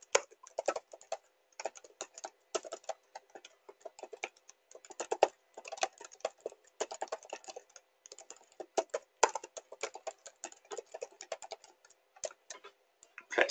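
Steady, fast typing on a computer keyboard as story text is entered for a book page, a dense run of crisp close-up key clicks with brief pauses, no voices.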